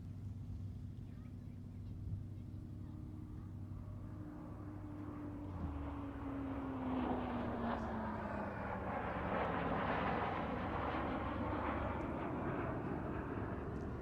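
A Canberra bomber and a Hawker Hunter T7 jet flying in formation at an airshow, a steady engine roar that swells into a broad, loud rushing jet noise as the pair passes, with a falling whine underneath.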